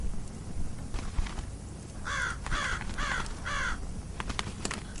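A raven gives four harsh, evenly spaced caws, close and distinct over a steady dark background hiss.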